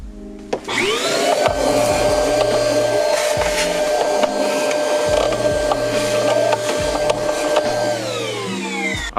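A vacuum cleaner sucks debris and leaves from the airflow meter filter of a Mazda Miata, a steady loud whine held for about eight seconds with rhythmic low thumps and scraping as the nozzle works over the filter.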